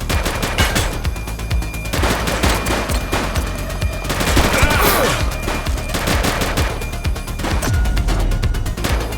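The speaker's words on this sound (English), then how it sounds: "He's shooting!" Gunfire in The Precinct, a police video game, during a shootout with a suspect. Loud, dense bursts of rapid automatic shots run almost without pause across the whole stretch, with no voices.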